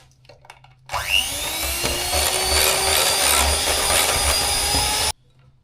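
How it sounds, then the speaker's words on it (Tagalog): An electric mixer whirs steadily while beating cheesecake cream until it doubles in size. A loud, continuous motor drone with a rising pitch sweep at the start runs for about four seconds and then cuts off abruptly. "Beat lang ulit natin hanggang sa mag-double size."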